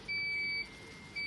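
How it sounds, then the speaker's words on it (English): A small electronic buzzer on an RC vehicle circuit board gives steady, thin tones at a rate set by a potentiometer: one long beep, a pause, then the next beep starts. "it beeps faster."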